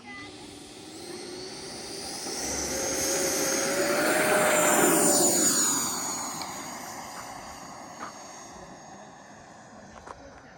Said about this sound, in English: We'll do the Steve, I guess it's the carrier takeoff. He likes to punch it and go